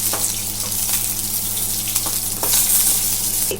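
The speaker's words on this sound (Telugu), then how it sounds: "పచ్చిమిర్చి వేస్తున్నానండి ఇందులో. కొంచెం లైట్గా ఇలా వేపుకుందాం." Green chillies frying lightly in hot oil in a pan with the stove just switched off, giving a steady loud sizzle and crackle throughout with no talk.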